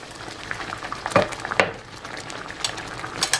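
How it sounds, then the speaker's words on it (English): Mushroom cream sauce bubbling in a pan with pork chop juices, soft irregular pops and blips over a steady low simmer, with a couple of sharper clinks of a utensil against the pan, close and moderately quiet. "Now our sauce has started to bubble up a little bit harder."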